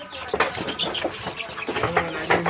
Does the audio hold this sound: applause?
no